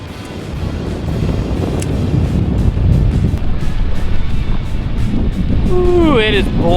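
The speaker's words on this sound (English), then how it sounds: "wind is blowing out here. Probably blowing 20 plus miles an hour." Strong wind of 20-plus miles per hour gusting across open water while fishing from a boat, a loud, steady roar buffeting the microphone, with a faint squeaky tonal chirp near the end.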